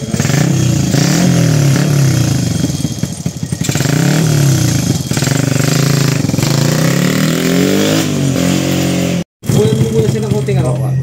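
An upgraded SYM Bonus 100 motorcycle with a 53 mm block, a 6.8 cam and a 28 mm carburetor runs loudly up close on a test. The engine revs up and down repeatedly, and people talk over it.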